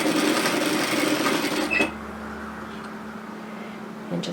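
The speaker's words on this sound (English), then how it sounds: "start as close to the edge as you can and sew a nice straight line, and don't forget to back tack" A sewing machine stitches a straight seam on apron fabric with a quick back tack, a fast whirring run that stops abruptly, followed by a quieter hum and a few faint clicks.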